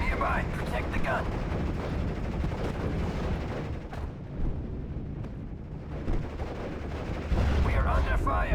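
Gunfire and artillery from Steel Division: Normandy 44, a dense rumbling battle din with distant booms and shots, voices calling out over it.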